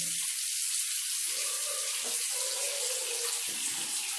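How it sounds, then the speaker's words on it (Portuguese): Steady rushing water from a tap pours into a bathroom sink, loud and continuous for several seconds, its tone shifting slightly as the basin fills, with no talking. "Vou pegar a vasilhinha aqui, vou pôr encher aqui a pia."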